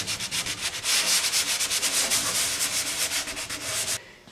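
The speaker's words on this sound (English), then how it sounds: "primer needs to be sanded regardless" Primer on a metal aircraft is sanded by hand before the top coat, giving a steady, close, rhythmic scrubbing of quick back-and-forth strokes that stops abruptly near the end.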